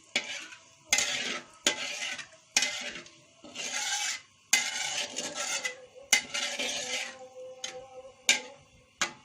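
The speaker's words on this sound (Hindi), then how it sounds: "इसमें इलायची पाउडर डालेंगे। इसको थोड़ा मिक्स करेंगे।" A spoon stirs cardamom powder into makhandi halwa in a hot pot, making repeated loud scraping strokes with brief pauses between them and a light sizzle underneath.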